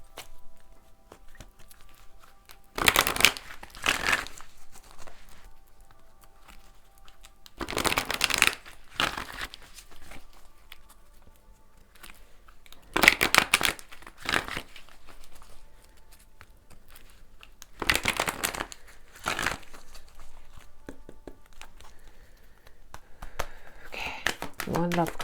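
Tarot cards being shuffled and drawn: crisp papery riffling bursts about every five seconds, close by, with quieter gaps between them.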